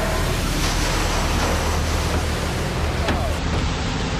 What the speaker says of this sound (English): Relatively big seas still out here, the wind's down quite a bit, but that big low pushed up some pretty big waves here southwest